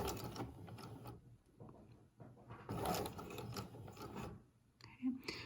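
Sewing machine back stitching a plain seam, uneven bursts of mechanical whirring and clicking that start and stop, close and moderately loud with brief pauses.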